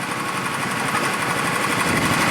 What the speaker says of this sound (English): It looks like a lawnmower engine, you think?